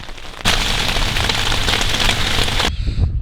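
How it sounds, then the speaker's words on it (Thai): Heavy rain suddenly pours down, a loud dense patter drumming steadily on a tent surface at Pha Tat, Khao Kho, then cuts off abruptly. "ตอนนี้ฝนตกแล้วครับท่านผู้ชม"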